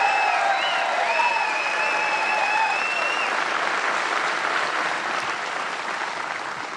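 An audience applauds Senator Ron Johnson at a political gathering, with loud, sustained clapping and a few sharp whistles early on. The applause fades slightly toward the end.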